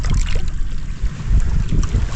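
A boat engine runs out at sea on a fishing trip, a loud, steady low rumble mixed with wind buffeting the microphone and water rushing past.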